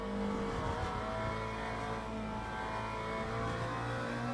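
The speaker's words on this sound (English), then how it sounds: "I've probably got the sound of the engine quite low because I want to be able to hear the AI." A race car engine drones at steady high revs in the Le Mans Ultimate video game at Sebring, a continuous, even whine with no clear gear changes.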